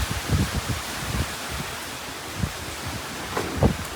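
Wind blows through oak tree leaves in a steady, hissing rustle, with a few stronger low gusts rising and fading.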